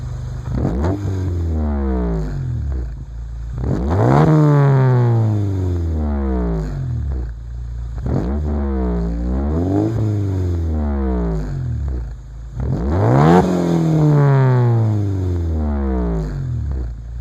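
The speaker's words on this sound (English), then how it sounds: "I'm just gonna rev the exhaust a little bit." A 1993 Honda Civic CX fitted with a Yonaka exhaust, revved repeatedly: about five sharp throttle blips that climb and fall back to a rumbling idle, loud and close throughout.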